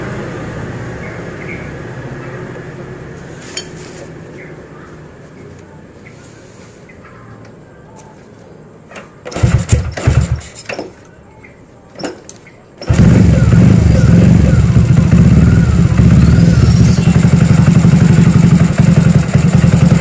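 Quiet clattering and a few sharp knocks, then a carbureted Honda C70 motorcycle engine converted to fuel injection with a racing ECU fires up and settles into a loud, steady idle close by.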